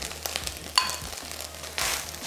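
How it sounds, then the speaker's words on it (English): Rice sizzles and crackles in a hot wok with shrimp for chicken fried rice, with scraping stirs and a sharp metallic clink, close and fairly quiet. "Just keep stir frying that through."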